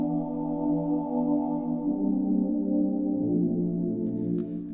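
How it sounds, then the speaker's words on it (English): A synthesizer choir patch sings sustained, breathy vowel-like chords that shift pitch smoothly as the notes change, soft and steady with no other sounds. "our synth choir sounds like this"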